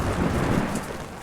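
A thunderstorm sound effect in a French audiobook, set in a stormy night street, brings a brief, loud rumble of thunder mixed with rain that fades slightly toward the end.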